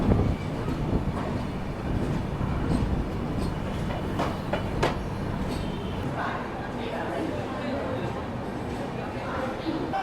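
A train at Itarsi Junction railway station, with continuous rumbling and rail clatter and a few sharp metallic clanks, while people talk nearby throughout.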